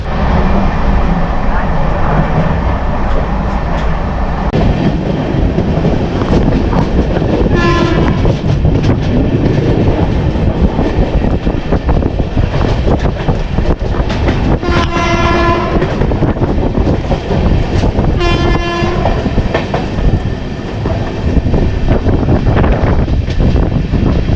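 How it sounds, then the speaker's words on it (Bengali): An Amrit Bharat Express passenger train pulls out of the station and runs with a loud continuous rumble and clatter, and its horn sounds in several short blasts. A voice is heard over the noise. "এই জাস্ট আমাদের ট্রেন ছাড়লো সিগন্যাল ক্লিয়ার পেয়েছে"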